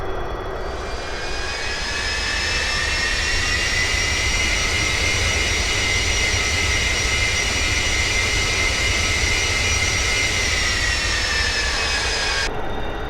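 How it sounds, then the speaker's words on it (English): Simulated Avro Vulcan bomber jet engines taxi in X-Plane 11, a loud, steady whining roar that holds evenly for over twelve seconds before cutting off abruptly, with no voices. "So as we taxi to the threshold here, we're going to go right past XH607."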